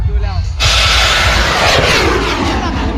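A bamboo rocket ignites at a Bun Bang Fai rocket festival in Ban Nong Huea Thong, Xaybouly, Savannakhet, Laos. A loud, sustained hissing roar bursts in abruptly and holds steady after a brief moment of voices.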